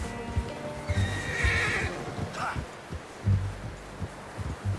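A horse in Red Dead Redemption 2 gives a loud, wavering whinny over the steady dull thud of hooves clip-clopping at a walk, with low game ambience underneath.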